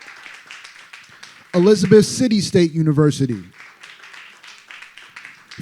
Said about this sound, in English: Let's clap it up for South Carolina State